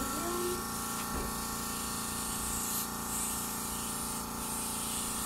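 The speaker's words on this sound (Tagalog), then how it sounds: "spray gun gamit niya, ginagawang spray, ano, airbrush" A spray gun hisses steadily while paint is sprayed onto a car during a repaint, a continuous close broadband spray with a faint mechanical hum underneath and no speech.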